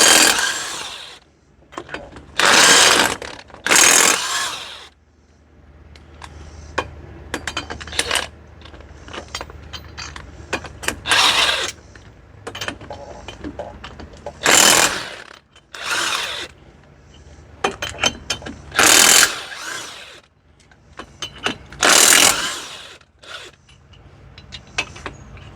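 A 3/4-inch chrome socket on a ratchet turned by hand to remove a 4x4 truck hub part, heard as bursts of rapid metallic clicking separated by pauses, close and fairly loud.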